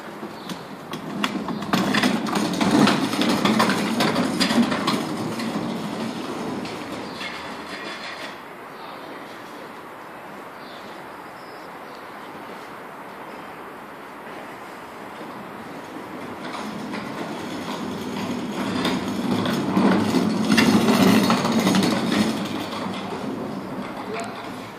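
A TG-T3 electric unicycle accelerating at full power, a steady broadband rushing whine that swells over the first few seconds, eases through the middle and builds loud again near the end, with no talk.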